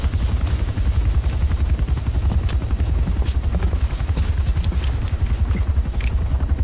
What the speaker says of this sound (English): Oh, he came on a helicopter.